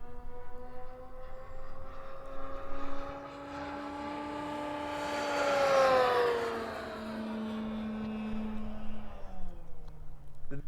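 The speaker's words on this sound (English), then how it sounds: "Dave, this is the biggest plane you've flown, right?" An ExtremeFlight Raven 85-inch RC airplane flies past, its engine note a steady harmonic drone that swells and rises in pitch as it approaches, then drops and fades as it passes away.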